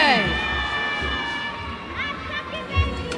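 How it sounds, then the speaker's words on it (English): Crowd cheering and shouting at a beauty pageant finale in Ghana, a lively mix of whoops, high voices and general crowd noise, fairly loud and continuous with chatter mixed in. "Please give them a round of applause as they go back."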